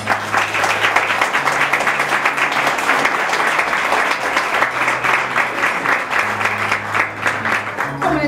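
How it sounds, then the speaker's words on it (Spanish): Wedding guests applaud together, filling the room with continuous, loud clapping that holds steady throughout, with a low hum and some murmured voices underneath. "un aplauso por favor para ellos."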